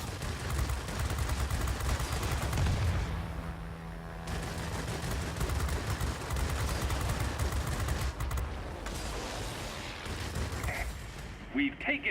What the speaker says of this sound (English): And you see how effective these cannons can be.